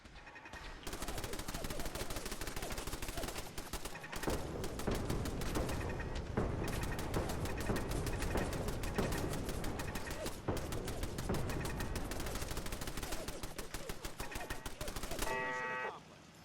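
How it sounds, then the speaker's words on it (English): Heavy turrets in Fallout 4 unload a sustained, loud barrage of rapid automatic gunfire that rattles on for about fifteen seconds with brief gaps, then cuts off. "the Kismet kill box here, aka a bunch of heavy turrets, hit the thing down here."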